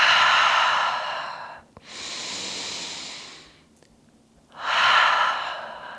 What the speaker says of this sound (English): Big breath out.